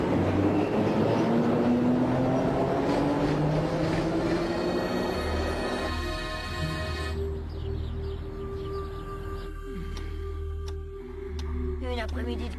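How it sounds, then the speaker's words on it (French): A Paris metro train rumbling along in motion, a steady loud low roar with rising whine and rhythmic ticking, fading to a lower hum with clicks later, while people talk over it. "Mais non, c'est le métro."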